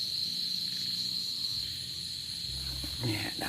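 Crickets chirp at night near a forest in a constant high, steady trill, with faint movement and rustling close by near the end.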